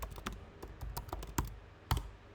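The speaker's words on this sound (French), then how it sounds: "si je tape la commande docker image" Quiet, close computer keyboard typing: a run of irregular light key clicks, a few sharper taps standing out, with no voices.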